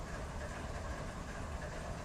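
Steady rumbling train running in the Run 8 train simulator game, heading down toward San Diego from Porphyry Yard; a continuous, even rolling roar with dense low-end rumble and no distinct breaks throughout.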